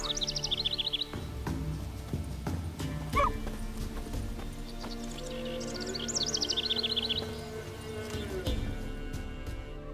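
Steady clip-clop of a mare's hooves at a walking pace in the video game The Witcher 3: Wild Hunt, with occasional bird chirps and a faint whinny over a low ambient background.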